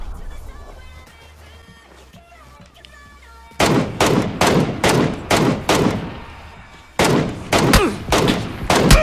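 Gunfire in the video game PUBG: quiet in-game ambience with faint clicks gives way to a loud, close burst of rapid shots in sharp repeated volleys, pausing briefly before another string of shots.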